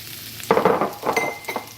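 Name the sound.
chopped onions sautéing in a pan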